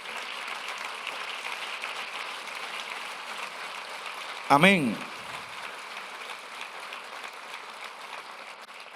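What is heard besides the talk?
church congregation applause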